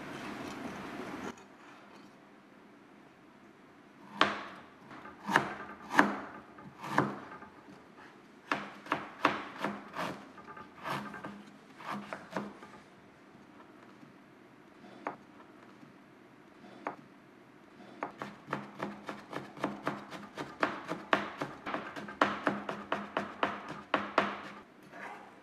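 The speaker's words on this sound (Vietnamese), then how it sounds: "Như vậy các bạn chọn những lát gừng đẹp, chúng ta sắt sợi để tạo hình trang trí" A knife cuts ginger slices into thin strips on a board, crisp close chopping taps in sparse groups at first, then faster runs of strokes, with no speech.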